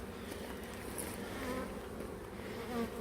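Inside an open hive, honey bees hum in a dense, steady buzz close up, with individual bees droning past now and then.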